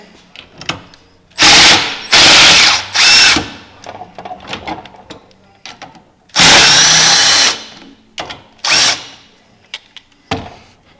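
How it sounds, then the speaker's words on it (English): A drill press whirs in several short bursts of high-pitched grinding while removing a roller bearing from a Polaris P22, separated by quiet gaps with small clicks and knocks. "Just take the drill press and run it down to where it's holding."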